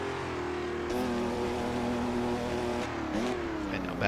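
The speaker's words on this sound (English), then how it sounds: "A couple last little barks out of the V12 because I can't resist." A Ferrari 312/67 V12 in Assetto Corsa holds a loud, steady, buzzing rev for several seconds, then dips and climbs again in a short blip near the end.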